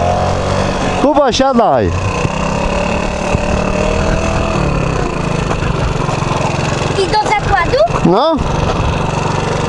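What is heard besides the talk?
scooter engine idling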